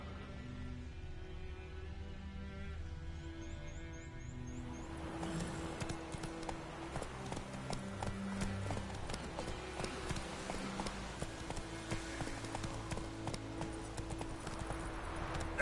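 Roach, a horse in the video game Witcher 3, gallops with rapid, rhythmic hoofbeats that build after a quieter opening and continue steadily under soft game ambience.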